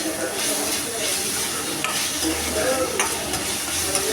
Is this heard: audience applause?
no